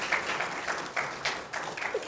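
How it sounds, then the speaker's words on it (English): Sparse, light applause from a small audience at a law school poll event, a handful of claps in loose bursts, fairly soft and distant. "If we could please give a round of applause to Dr. Franklin."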